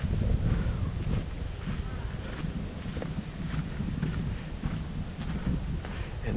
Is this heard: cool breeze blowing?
yes